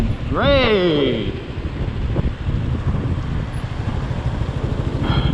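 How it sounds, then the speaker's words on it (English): Strong gusting wind buffets the microphone on a bridge during a motorcycle ride, a continuous loud low rumble throughout, with a brief rising whine early on. "Back on the bridge with crazy ass wind."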